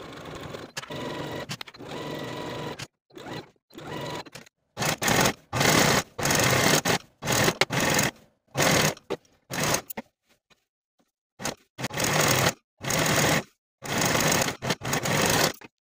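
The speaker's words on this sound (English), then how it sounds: "Sew the side seams with a 5/8 inch seam allowance" A sewing machine stitches the side seams of a jumpsuit at a 5/8 inch seam allowance, running in about a dozen short, close bursts separated by brief pauses, loud and alone.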